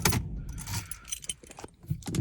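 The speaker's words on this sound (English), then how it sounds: "for safety purpose, I'm taking the keys out the car" Close metallic jingling of a Chrysler 300's car keys, several quick shakes and clinks over a couple of seconds, no voices.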